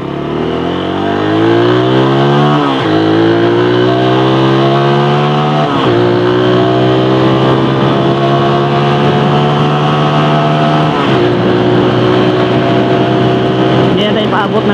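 VPERMAN150 V3 motorcycle engine revving up through the gears, climbing steadily in pitch with three distinct shift drops before settling into a sustained fourth-gear drone, loud and close with wind noise.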